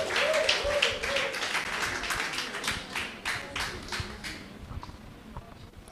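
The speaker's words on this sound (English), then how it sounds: "Shall we give him a round of applause?" An audience claps at an induction ceremony for Prof. Stella Appiah, with fairly quiet, uneven applause that fades over a few seconds. A brief voice is heard at the very beginning.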